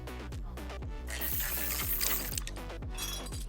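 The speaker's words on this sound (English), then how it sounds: "So let's remove the screws." Screws being removed from a car pipe in Car Dealer Simulator, a rapid mechanical ratcheting of repeated clicks in steady bursts with a brief metallic rattle in the middle, no speech.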